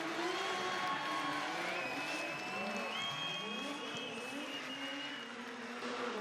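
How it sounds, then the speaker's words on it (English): An arena crowd applauds and cheers steadily for the 2018 Drift Masters European champion after a qualifying run at a drift event, a dense continuous wash of clapping with whistles and voices blended in. "Give your 2018 Drift Masters European champion a round of applause"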